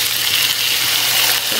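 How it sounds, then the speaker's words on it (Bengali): Mutton pieces fry and bubble in a kadai (wok), a close, loud, continuous sizzling hiss that holds steady throughout the brief moment. "কড়াইতে মাটন বয়েল হওয়ার যে সাউন্ডটা"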